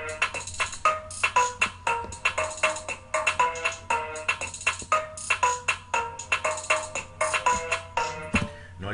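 Bright synth string patch from the Purity plugin, EQ'd with low frequencies cut and extra brilliance added, playing a repeating plucky melodic trap pattern in short rhythmic stabs, clean and alone.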